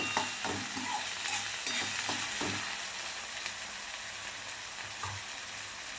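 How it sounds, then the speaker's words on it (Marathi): Chopped onion and tomato fry in a pan for poha, with a steady sizzle and several spatula scrapes and stirs clattering against the pan. "कांदा टोमॅटो व्यवस्थित भाजून घ्यायचं आहे आपल्याला मऊ होईपर्यंत"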